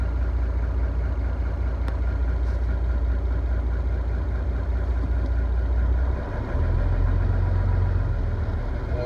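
A Scania TGB30 truck's D11 diesel engine idles after a cold start, a loud steady low rumble with a constant throb, briefly dipping once before settling back to an even idle.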